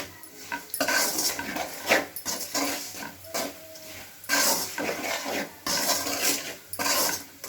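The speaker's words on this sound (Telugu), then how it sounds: "ఇప్పుడు అంతా బాగా కలుపుకోవాలి ఫ్రెండ్స్." Chicken being stirred with salt and spices in a pan for a chicken fry, giving repeated close scraping and clattering bursts of spoon or spatula against metal in an irregular rhythm.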